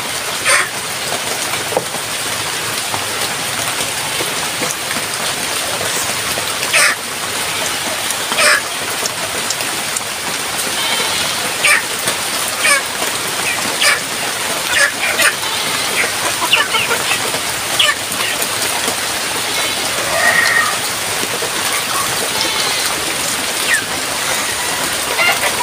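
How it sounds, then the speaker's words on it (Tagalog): Heavy rain pours down steadily and loudly throughout, a dense hiss of drops on surfaces, with occasional faint goat calls in the background. "Malakas yung ulan eh."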